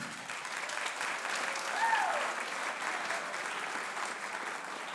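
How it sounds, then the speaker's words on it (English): Audience applause at a spring school band concert, a steady wash of clapping from a seated crowd that holds evenly through the whole stretch at moderate volume, with no talking over it. "So we'll give Charlie a round of applause"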